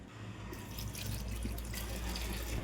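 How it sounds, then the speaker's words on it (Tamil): Water is poured into a bowl of rice flour and sago flour, making a steady, close trickling and splashing that runs continuously for a few seconds. "கொட்டிட்டு தண்ணி ஊற்றி கலந்துக்கலாம்."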